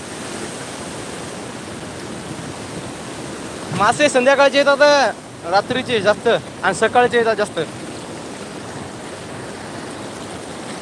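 A village waterfall pours in a steady, broadband rush of water that runs through the whole stretch, while a voice talks for a few seconds in the middle.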